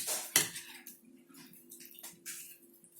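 A spoon stirs lontong sayur with crackers in a bowl, giving close, quiet clinks and scrapes, one sharp knock near the start.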